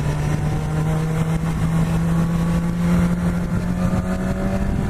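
A 2017 BMW S1000 XR motorcycle's engine drones steadily at speed, its exhaust popping and crackling under a continuous, fairly loud roar throughout.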